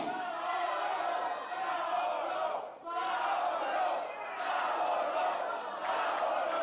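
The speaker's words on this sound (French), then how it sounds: "La foule qui lui rappelle quel est son nom." A wrestling crowd at an NCW live event in Sainte-Thérèse chants loudly and steadily, with a brief dip in the middle before the dense, roaring chant swells back up and carries on.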